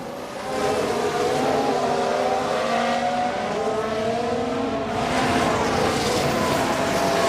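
Mercedes Formula 1 race car in F1 Manager 22, engine screaming loudly and close, with high revving tones rising and shifting as gears change, several cars blending in over a steady roar, no voices.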